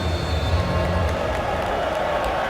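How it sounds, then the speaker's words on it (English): Broad, steady murmur of a stadium crowd at a midweek soccer match at Red Bull Arena, a continuous far-off wash of voices with faint scattered cheers and claps throughout. "Good crowd on hand for the midweek game"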